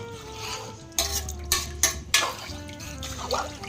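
Pigeon pea khichdi being stirred with water in a pot, giving several clinks and scrapes of a spoon against the pot over a faint background hum, with no talk.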